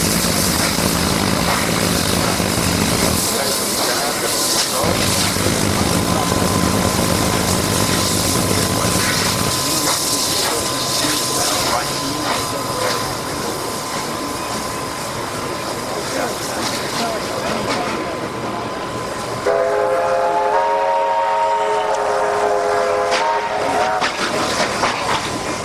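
Steam locomotive 3265 "Hunter" rumbles steadily as it pulls its train away, with engine drone and clanking, and a horn-like tonal sound rising near the end.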